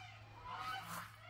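Geese give a short burst of honking, faint and distant during an outdoor evening stroll past flower beds, with a low background hum.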